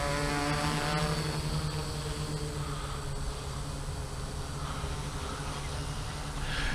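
A DJI F450 heavy-lift multirotor drone flying on its first flight, motors and propellers giving a steady, loud, buzzing drone with a whining hum that holds nearly constant throughout, heard alone.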